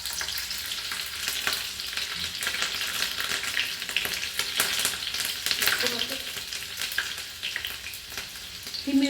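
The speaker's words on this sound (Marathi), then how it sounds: "कढीपत्ता, कढीपत्ता टाकतो. मिरची, लास्टमध्ये हिरवी मिरची." Curry leaves and green chili hit hot oil in a tadka for instant dhokla, producing a steady crackling sizzle with bursts of spitting, stirring clinks and faint background voices.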